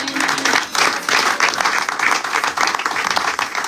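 A church congregation applauding during a Sunday service, with sustained, dense clapping from many hands filling the room evenly, loud and close, with no clear talking.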